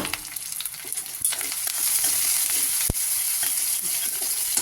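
Onions frying in a pan for a borboti dish, a steady close sizzle with crackling throughout and one sharp pop of fat near the middle, no voices.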